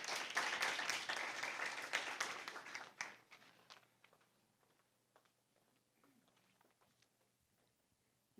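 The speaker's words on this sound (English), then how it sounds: "Round of applause for her." Audience applause for a judge at a 2024 debate round, loud dense clapping for about three seconds, then quickly thinning to scattered faint claps in a quiet room.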